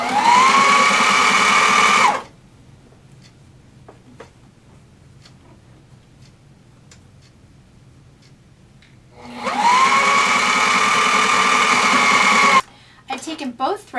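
A sewing machine top-stitches a reupholstered bar stool seat cover in two loud, steady whirring runs of about two and three seconds, with a quiet stretch of faint ticks and handling noises between them, close by.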